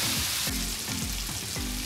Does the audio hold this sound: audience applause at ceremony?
no